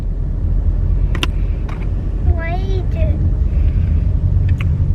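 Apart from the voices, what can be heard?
car interior rumble while riding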